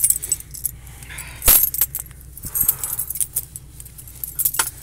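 A bunch of keys jangles close by in several bright, irregular bursts with small metallic clinks between them, and no talking.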